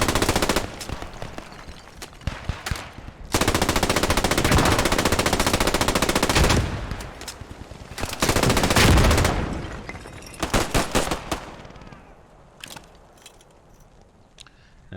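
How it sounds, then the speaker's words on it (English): An M1919 machine gun fires in a World War II-era multiplayer video game match, with loud sustained bursts of rapid automatic fire. Scattered single shots and quieter gaps sit between the bursts. "Got to see that M1919 suppressing a bit more."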